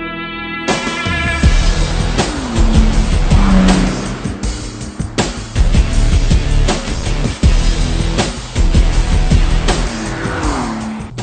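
A big, heavy car corners hard on windy mountain roads, engine revving up and down with tire squeal and gear changes, loud and close with no talk.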